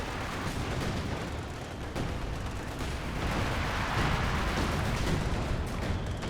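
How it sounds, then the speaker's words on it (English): Artillery pounds the field in a Company of Heroes 2 4v4 tournament match: a dense, unbroken barrage of rumbling booms and blasts, loud and continuous with no voices. "We have artillery coming in this sector."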